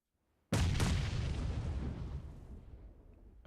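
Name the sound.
grenade explosion in PUBG Mobile video game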